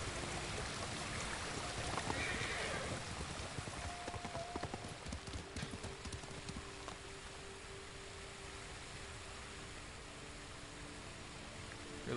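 Horse hooves clip-clopping in the video game Ghost of Tsushima, a faint rhythmic trot over ambient water and outdoor sound that tapers off as the horse slows.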